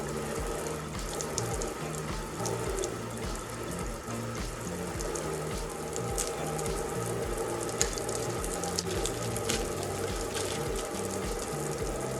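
Water from a tap runs steadily and fairly quietly while hair is washed with a bar of soap, a continuous splashing flow with small irregular spatters.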